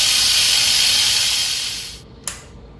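An Instant Pot pressure cooker vents steam in a loud, close, continuous hiss that tapers off after about two seconds, followed by a brief final puff.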